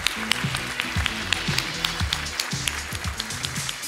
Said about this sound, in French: On peut bien l'applaudir, s'il vous plaît